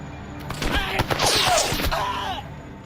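A short burst of rapid video game gunfire, several cracking shots in quick succession, loud and close, fading with an echoing tail.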